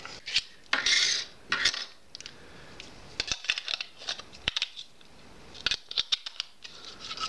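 A second small plastic bag from a parcel of laser bicycle tail lights is opened up close, giving crinkly rustles, scrapes and quick taps in irregular bursts, with no talking.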